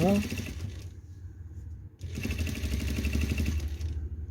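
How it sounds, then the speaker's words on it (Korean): A sewing machine stitches fabric for a small pouch, its fast mechanical whir starting and stopping, close and steady, with a brief pause in the middle. "미싱 박았던 그 자리 거기까지만 딱 박으면 돼요"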